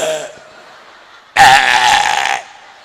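During a Maulid Nabi sermon in Sukabumi, a preacher vocally imitates a male goat. A brief lead-in sound is followed by a loud, rough, growling bleat held for about a second, then an abrupt stop.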